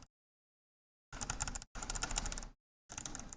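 Rapid bursts of clicking, like a mouse being hammered quickly, come in three clusters separated by short silences, close and fairly quiet.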